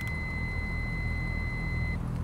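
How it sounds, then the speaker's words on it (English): Autopilot disconnect warning in a Cessna 172 within the X-Plane 11 flight simulator: a steady two-tone electronic chime holding for about two seconds, then cutting off, over a constant low engine drone. "That's the sound of the autopilot disconnecting."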